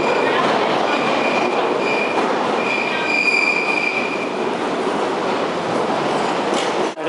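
A train rolls steadily along with a loud, continuous rumble and a high, drawn-out wheel squeal partway through, no voices heard.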